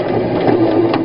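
A sewing machine runs an edge stitch at 2.5 length along a tote pocket flap, a close, steady whirring hum with quick rhythmic needle ticks and no talk.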